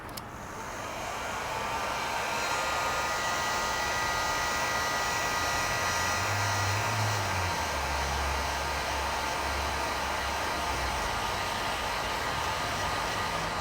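A heat gun blows hot air onto a Red Paddle paddle board accessory mount, giving a steady, close, rushing whir that builds over the first second and then holds constant throughout, with no voices.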